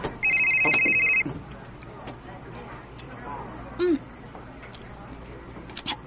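A cellphone ringtone sounds as a loud, bright electronic tone for about a second near the start, with a brief chirp later, while people chat and murmur in the background.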